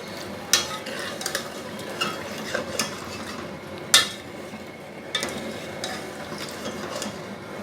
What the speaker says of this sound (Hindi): हाई फ्लेम पे इसको इतना भूनना है जितने में इसके टमाटर अच्छे से मिक्स हो जाएं।